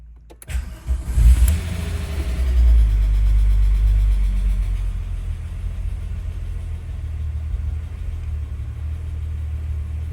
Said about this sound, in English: Right, let's get this car started.